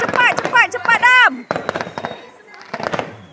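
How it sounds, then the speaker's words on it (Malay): Fireworks go off in a village on Eid eve, sharp crackling bursts and pops mixed with loud voices and shouting close by. "3 bunga api, 4 bunga api."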